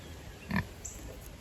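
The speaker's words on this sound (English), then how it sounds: "they're a good pig. It's a good pig." A pig on a farm gives one short, fairly near grunt amid low outdoor background noise, with quiet stretches before and after.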